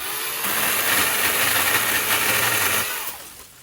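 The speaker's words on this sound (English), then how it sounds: "Again, I'm just using a pull saw." A Milwaukee pull saw cuts through a small, fresh tree, giving a steady, loud rasping noise that holds for about two and a half seconds, then fades out at the end.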